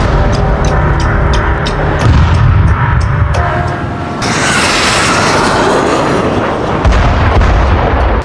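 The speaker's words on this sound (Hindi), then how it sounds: "जैसे ही ये बम टारगेट को हिट करता है, जोरदार ब्लास्ट के साथ बारूदी धुएं का गुबार आसमान में उड़ने लगता है।" A guided bomb explodes on its target: a loud, sustained roaring blast with dense rumbling low end and a sudden swell of broadband noise midway, continuous and overwhelming throughout.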